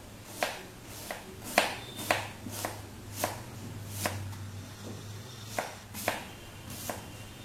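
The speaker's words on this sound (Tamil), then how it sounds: "நம்ம இந்த கொத்துக்கறிக்காக வெங்காயத்தை எப்படி கட் பண்ணணும்னு நான் உங்களுக்கு காமிக்கிறேன்" A large onion being chopped on a board for mutton keema, sharp evenly spaced knife strikes, about a dozen over several seconds, close and fairly quiet with a low hum beneath.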